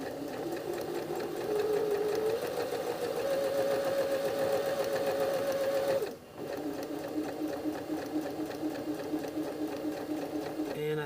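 A sewing machine top stitches a patch pocket in green thread, running at a slow, steady pace with a mechanical hum. It pauses briefly near the middle, then resumes.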